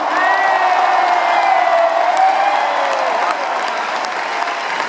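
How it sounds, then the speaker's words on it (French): A concert crowd at a show at Antarès, Le Mans, bursts into sustained applause and cheering, loud and dense, with whoops and shouts rising above the clapping before easing slightly toward the end. "Faites un maximum de bordel pour Tonio au retour"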